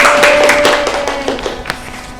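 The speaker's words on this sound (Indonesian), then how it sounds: "Tepuk tangan, tepuk tangan." A classroom group claps hands together, a quick run of sharp, close, fairly loud claps that taper off after a couple of seconds.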